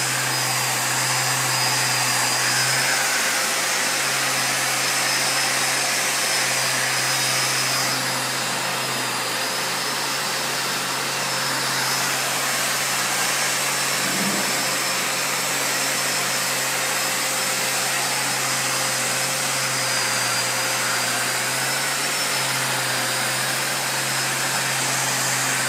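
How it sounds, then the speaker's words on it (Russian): An electric sander runs with a vacuum cleaner extracting the dust, a steady loud whine and whoosh continuing unbroken throughout with a constant low hum beneath and no talk. "То есть пылесос забирает всю пыль в себя."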